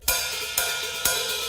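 Three bright, sizzling open hi-hat strikes on a drum set, about half a second apart, each washing on with an open shimmering ring, close and fairly loud.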